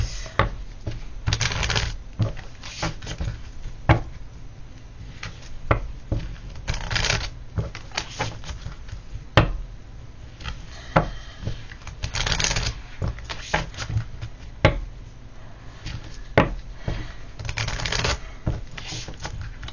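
Oracle cards being shuffled by hand, a close, repeated riffling and slapping of card stock in uneven bursts that keeps going throughout, with no talking over it.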